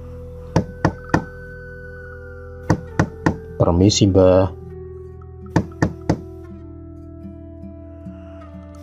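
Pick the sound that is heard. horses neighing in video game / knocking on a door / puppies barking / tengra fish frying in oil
knocking on a door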